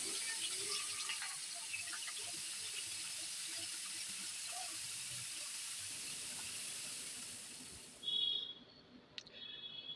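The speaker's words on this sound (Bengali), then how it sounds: "পনিরগুলোকে আমি আস্তে আস্তে তেলের মধ্যে ছেড়ে দিচ্ছি" Paneer pieces frying in hot refined oil in a kadai give a steady, even hiss throughout, close and moderately loud, before it cuts off near the end with a few faint clinks.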